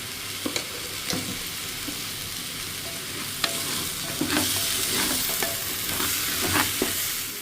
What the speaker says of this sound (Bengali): চালগুলো ভাজা হয়ে গেছে